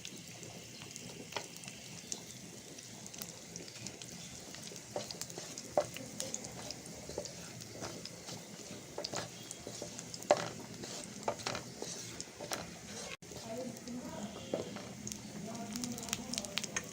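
Dried red chilies fry in hot oil with a faint, steady crackle and sizzle, punctuated by occasional stirring clicks and scrapes of a utensil against the pan.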